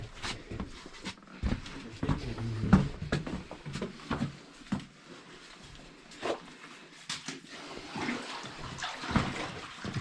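Wellies wade through knee-deep water in the Smallcleugh lead mine in Cumbria, giving irregular close sloshing splashes and swishes in an enclosed space, with brief quiet pauses between steps.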